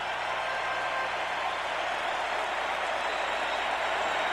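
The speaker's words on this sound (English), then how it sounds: "they applauded long and loud last night for this fella, and they're doing it again" Sustained applause and cheering from a large ballpark crowd for Kirby Puckett at the Minnesota Twins' home field during Game 7 of the 1991 World Series against the Atlanta Braves, a dense, steady roar with no breaks.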